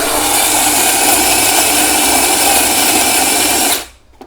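A coffee grinder fitted with new Chinese burrs whirs steadily and loudly up close for nearly four seconds, then cuts off and winds down.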